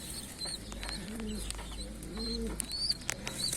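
Pigeons coo in soft, repeated low throaty rolls at close range, with faint clucks and bird chatter in the background.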